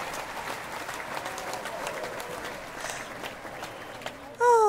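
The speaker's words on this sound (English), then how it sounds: "Oh, applause. Applause." Recorded audience applause greeting a radio talk show, a soft, even patter of clapping held at moderate distance until a sudden tone cuts in near the end.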